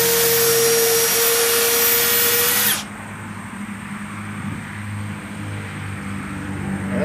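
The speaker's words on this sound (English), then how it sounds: "I'm going to put another screw in right here." A power drill drives a screw into split wood, whining loud and steady for just under three seconds before cutting off abruptly, leaving a low hum of room noise.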